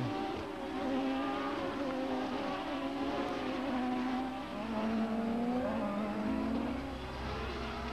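Champ Car open-wheel race cars at the 2004 Monterrey Grand Prix, a steady high engine whine with shifting pitch as the field runs, continuous and fairly loud with no voices over it.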